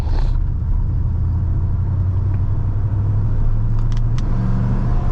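A 1986 Ford F-150 pickup with fuel injection idles close by with a steady low engine rumble, rising slightly as it is given a little gas, loud and continuous with no talk.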